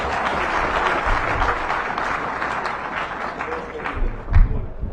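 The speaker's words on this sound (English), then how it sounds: "give him a big round of applause" Audience applause at a live Musevenomics conference event, a dense continuous wash of clapping with a few thumps near the end and faint voices mixed in.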